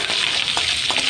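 Dried red chillies and green chillies sautéing in hot oil in a pan for a bottle gourd kootu: a loud, steady, close sizzle with faint stirring scrapes and no voices.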